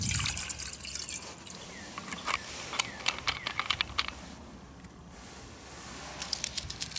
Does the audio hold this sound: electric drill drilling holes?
no